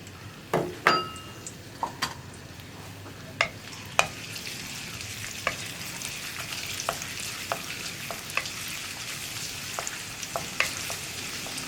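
Ginger and garlic sauté in hot coconut oil for an egg curry, a steady close sizzle broken by sharp clinks and taps of a spoon against the pan, with no voices.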